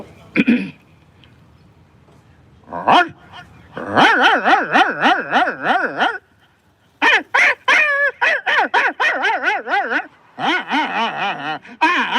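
A human voice imitates two dogs fighting, producing loud, close bursts of wavering growls, yelps and barks in rapid runs separated by brief pauses.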